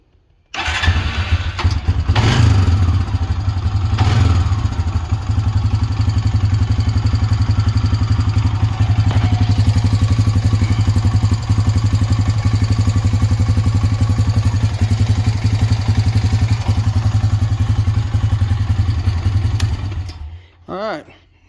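2002 Honda Rancher ES ATV engine cranks and catches, then settles into a steady, loud, close idle with a low rhythmic chug for about twenty seconds before cutting off.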